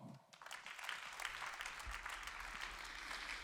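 Audience applause at an architecture awards ceremony, sustained, dense clapping filling the hall after a band is introduced, steady and moderately loud throughout.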